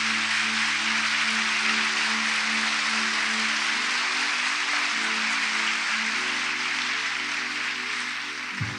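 A church congregation applauds during worship, a dense continuous wash of clapping like steady rain, under sustained organ or keyboard chords that shift every second or so.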